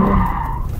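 Tyres of a Nissan 350Z screech as the car drifts on a closed road, a loud, sustained squeal with a falling tone over engine rumble, lasting under a second.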